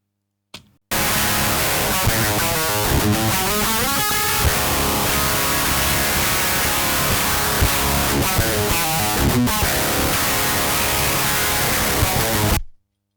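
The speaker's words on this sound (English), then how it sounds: "And now play the DIs again. Just so you're aware, this is going to sound absolutely disgusting because there's no cab" Electric guitar played heavily distorted into a DI direct recording with no speaker cabinet, giving a harsh, fizzy, noise-like wall of sound. Chugging riffs play continuously and loudly for about twelve seconds, then stop abruptly.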